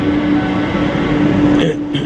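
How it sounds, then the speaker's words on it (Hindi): A Delhi metro train pulls into Rajiv Chowk station with a steady, loud rumble and hum, a rising tone and a brief shift near the end. "ये हमारी मेट्रो आ गई"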